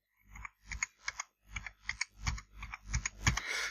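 Fingers type link numbers on a computer keyboard, a close series of crisp, uneven key clicks in short bursts, with a slightly longer keystroke cluster near the end and no talking.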